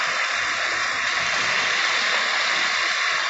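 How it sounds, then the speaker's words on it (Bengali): Water in which peas were boiled pouring into a hot pan for egg ghugni, a steady loud rushing splash that runs unbroken throughout, close and with no talking. "এবার আমি মটর সেদ্ধ জলটা দিয়ে দিচ্ছি"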